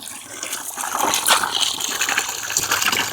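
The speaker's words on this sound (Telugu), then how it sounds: "ఈ అరటి పువ్వులను అయితే నీట్గా కడుక్కుందాం." Banana flowers being rinsed under running water, a steady splashing gush that rises and holds through the middle, close by, with no talk over it.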